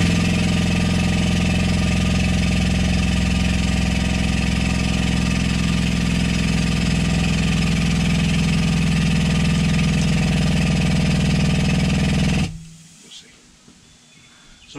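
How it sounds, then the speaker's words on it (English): A workshop air compressor runs with a leaking pilot valve, giving a loud, steady mechanical drone with a constant hiss that cuts off abruptly near the end, leaving quieter background. "Sorry about the air sound. My pilot valve leaks on my compressor."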